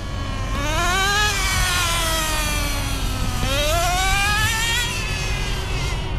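A Traxxas Rustler 2.5 nitro RC car engine, still being broken in, screams loud and close with a continuous high-pitched whine that climbs and dips in pitch through two revving surges, with no voices.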